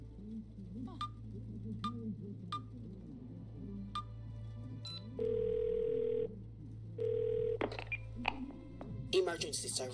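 A phone call in the video game Twelve Minutes: sparse ticking, then two long flat line tones and a few clicks, quiet, under a low steady hum with occasional speech.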